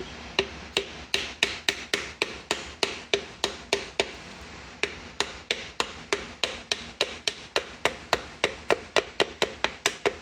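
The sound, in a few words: light hammer taps on metal sleeve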